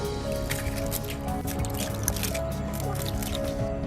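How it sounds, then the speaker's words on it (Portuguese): Floodwater runs through a street after a severe hailstorm in Minas Gerais, giving continuous close-up wet trickling, splashing and dripping with no pauses. "Olha a água aqui, como é que tá."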